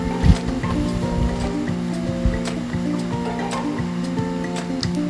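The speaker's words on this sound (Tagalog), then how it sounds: "so haluin natin ng konti para yung ating karne ay humalo na sa kanya" Meat is stirred in a pan for adobong sitaw, giving soft wet squishing and a continuous sizzle with occasional scraping taps, close by and with no talking.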